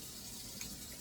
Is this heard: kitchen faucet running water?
yes